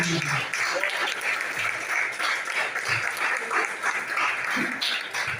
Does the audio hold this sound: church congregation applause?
yes